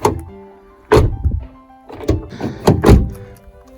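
Several dull thunks of a Renault Clio 4 door shutting against its rubber seal, close by, spaced out over a few seconds with no talking.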